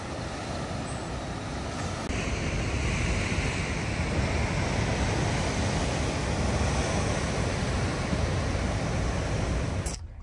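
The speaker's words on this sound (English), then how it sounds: "You can see all the waves crashing." Ocean waves crash along the rocky San Diego coast near sea caves, a steady, loud roar of surf and rushing water, with wind buffeting the microphone, continuing for about ten seconds before cutting off abruptly.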